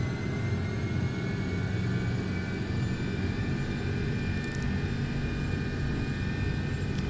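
McDonnell Douglas MD-11 jet engines spooled to takeoff thrust in the X-Plane 12 simulator, a steady, loud, dense roar that holds unbroken, with no voices over it.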